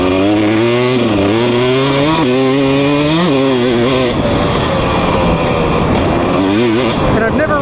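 A 250 two-stroke dirt bike engine revs on the throttle out on trails, making a loud, continuous buzzing whine that rises and falls in pitch through repeated throttle pulls and stays close throughout.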